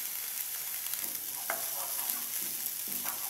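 Onion sautés in oil for a palm heart filling, a soft, steady sizzle close by, marked by a few light spatula scrapes and taps.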